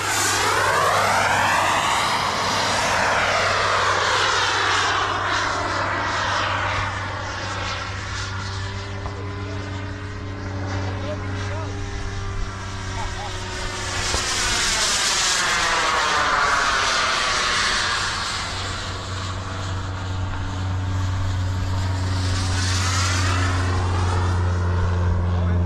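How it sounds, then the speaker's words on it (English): A full-size Cessna airplane flies over an RC model airplane gathering, its propeller engine droning loud and steady with a rising and falling pitch sweep as it passes overhead, a brief voice heard near the start. "Here comes a full-size plane, full-size Cessna."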